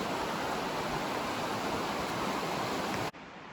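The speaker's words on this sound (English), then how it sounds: "Listen to the water." Steady, broadband rush of a creek flowing beneath a suspension bridge at Trough Creek State Park, Pennsylvania, in light drizzle. The loud, even roar fills the clip and cuts off abruptly near the end.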